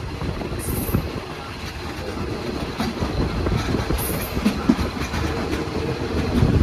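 Riding inside a Daewoo diesel railcar express train on the line to Nakhon Ratchasima, with a constant loud rumble of the running train, rhythmic wheel clatter and occasional faint high squeals.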